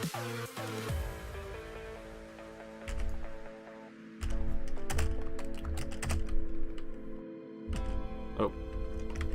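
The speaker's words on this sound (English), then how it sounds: "I'm just using my quieter keyboard." Rapid clicking keystrokes on a quieter computer keyboard come in uneven bursts and pauses, close and fairly soft, over a faint background hum.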